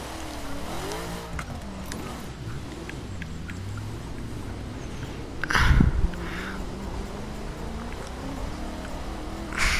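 A car in the racing video game The Crew brakes and drifts, its engine whining up and down before a sharp skid burst near the midpoint, with tire noise and revving continuing afterward.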